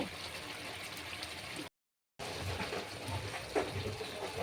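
Rohu fish curry bubbles in a pan, a steady close boiling and simmering hiss with a short gap of silence midway, no voices.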